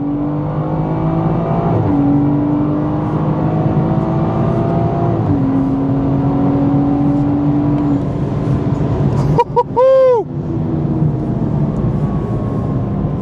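BMW 440i with coilovers accelerating hard from a launch-control quarter-mile run, the engine droning loudly through rising gear pulls with shift breaks, then a sharp rise and a short burst near the end, heard from inside the car.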